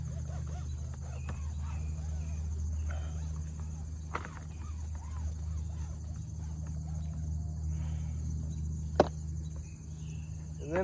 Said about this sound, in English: See that big old cicada bug? That's crazy. They're here,